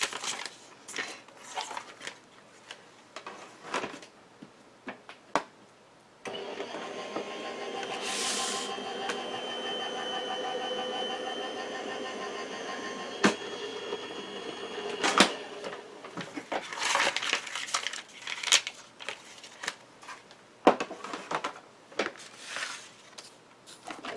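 Greeting card with greenery being run through a manual die-cutting machine, a steady mechanical grinding and rolling pass lasting several seconds, fairly close and moderately loud, with scattered clicks and handling noises before and after.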